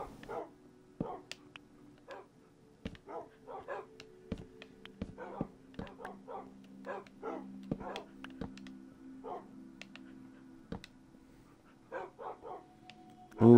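Minecraft dogs bark in short, sharp yips, scattered irregularly across a quiet backdrop with a low steady hum, some barks overlapping in quick bursts.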